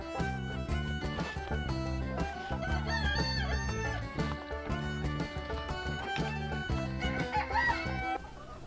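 Chickens cluck and a rooster crows in overlapping, repeated calls, fairly quiet, continuing steadily before trailing off at the end.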